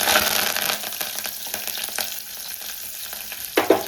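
Tempering seeds, a dried red chilli and curry leaves crackle and sizzle in hot oil, with uneven bursts of popping and a louder spurt near the end, up close and with no talk.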